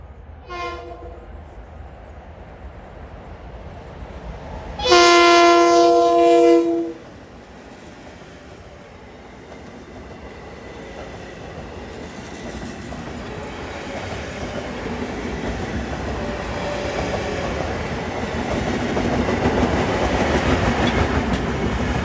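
A Long Island Rail Road commuter train on the Port Jefferson Branch rolls past with a loud horn blast early on, then a long building rumble and rattle of cars passing close by.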